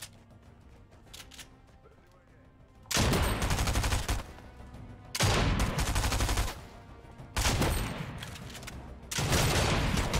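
Video game gunfire in rapid bursts, three or four loud sustained volleys of automatic fire separated by short quieter gaps, close and harsh, with faint background sound between bursts.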